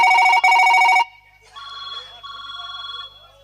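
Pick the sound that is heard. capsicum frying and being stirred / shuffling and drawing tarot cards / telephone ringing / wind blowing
telephone ringing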